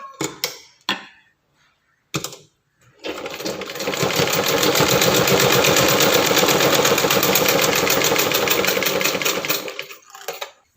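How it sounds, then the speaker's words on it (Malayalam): A sewing machine stitching a shirt shoulder seam: a few handling clicks, then a fast, continuous mechanical whir running for about seven seconds before stopping, close and loud, with no talking. "വെച്ചിട്ട് നമുക്ക് ഇതൊന്ന് തയ്ച്ചു കൊടുക്കാം"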